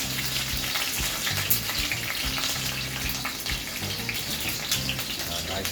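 Onions frying in a pan for a Cuban-style steak sandwich give a dense, steady crackling sizzle with intermittent stirring scrapes, close and moderately loud, with no clear talk.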